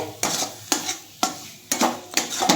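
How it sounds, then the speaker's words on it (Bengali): Banana flower with slit green chillies frying in a wok, heard as a series of sharp spatula scrapes and stirs about every half second over a low background sizzle, close by with no voices. "আমি আর মোটামুটি তিন চার মিনিট এটা ভেজে নেব ভেজে নিয়ে নামিয়ে নেব"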